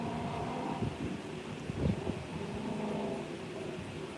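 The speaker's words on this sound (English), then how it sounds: "And it's nice today, but it's a little windy." Steady wind buffets the microphone with a low rumbling roar, broken by a few gustier bursts, with no voices present.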